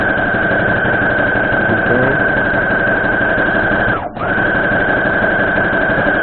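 A sewing machine stitches log cabin quilt blocks together at a quarter-inch seam, giving a steady whirring motor hum that stops for a moment near the end, then picks up again. No one speaks.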